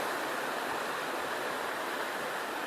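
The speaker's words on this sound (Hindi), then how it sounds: "आवाज़ से आपको अंदाज़ा हुआ होगा कि पानी की आवाज़ कम हो गई है" Water rushes continuously at the Ghora Mar waterfall, a steady broadband roar with no pauses or voices.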